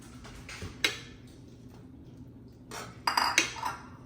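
Fried pakoras are dropped into a pot of boiling Punjabi kadhi, giving a few close, sharp metallic clinks and clatters of a utensil against the pot, separated by quieter pauses, with no voices.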